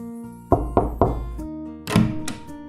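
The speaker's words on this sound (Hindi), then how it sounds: "तो इसने इनके दरवाजे पर जाकर खटखटाया।" A door is knocked on in an animated children's story about ants and a grasshopper, three quick hollow raps followed by a couple of heavier thuds, close and clear with no speech.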